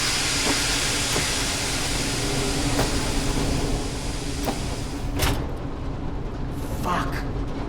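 Steam hisses loudly and steadily from pipes in the Metro Awakening video game, a dense broadband rush running the whole way with a few sharp clanks and bursts, partly under speech.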